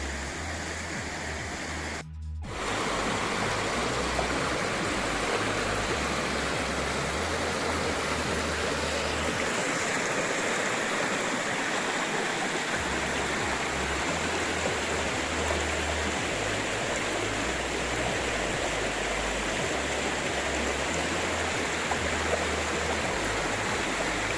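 A flowing creek near old coal mine remains and a trestle rushes steadily in a dense, continuous wash of water noise, close and loud throughout with no talk over it.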